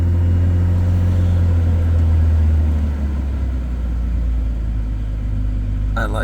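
A 1994 Toyota Land Cruiser FZJ80 idling just under 1,000 rpm after a warm start, a loud, steady low engine rumble close by with a faint click near the end.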